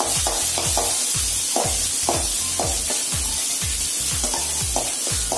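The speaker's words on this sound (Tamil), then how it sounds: "ஆனியன்ஸ் வந்து கொஞ்சம் ஃப்ரை ஆனா போதும்." Onions frying in a pan with mustard seeds for egg bread burji, a loud constant sizzle with rhythmic scraping strokes of a spatula stirring about twice a second, close up and with no voices.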